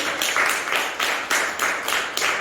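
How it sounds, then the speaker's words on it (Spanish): Church congregation claps in a steady, rhythmic beat, many hands striking roughly together in repeated bursts, close and fairly loud with no talking over it. "Denle un aplauso al Señor, porque Él lo ha prometido"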